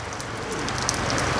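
Steady rain pours down outdoors at a rural home in Thailand, a dense, even hiss with scattered drop patter, loud and continuous with no voices.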